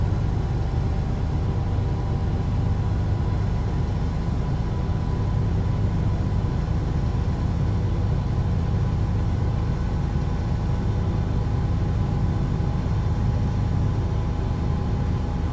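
A truck engine in American Truck Simulator, in twelfth gear at low RPM while cruising at about 80 to 85, makes a loud, steady, deep drone that continues unbroken from start to finish.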